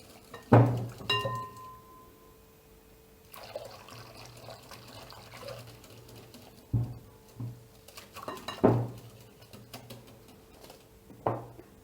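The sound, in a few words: stirring milk and yogurt in a bowl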